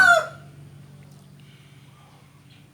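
A Burmese fighting rooster gives one short, loud call right at the start, then only a faint low background hum continues.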